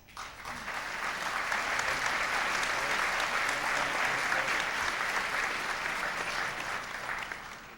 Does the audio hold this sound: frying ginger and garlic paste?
no